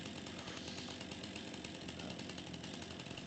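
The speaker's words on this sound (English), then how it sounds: "I can use my chainsaw to do that" A chainsaw cuts through brush in Farming Simulator 25, its engine buzzing loudly and continuously with a gritty, rattling drone and no voices over it.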